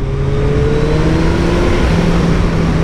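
A 2024 Suzuki GSX 1300R Hayabusa motorcycle engine while riding, a loud steady drone with a slowly sliding pitch under heavy wind rush, close and continuous, with no speech.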